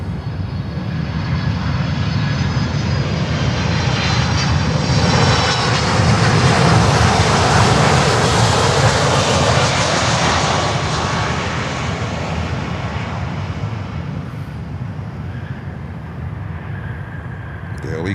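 Jet engines of a Delta Boeing 767-400 airliner at Miami Airport give a loud, continuous roar that holds steady for the full stretch, swelling slightly in the middle before easing a little toward the end.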